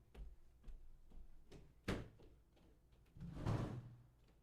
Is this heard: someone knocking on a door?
yes